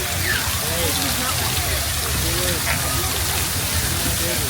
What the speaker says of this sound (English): did you know there's a waterfall?